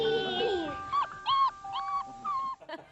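Puppies in a TV commercial whimper and whine in a string of high, thin cries, several short yelps separated by brief pauses, close and clear with no talk over them.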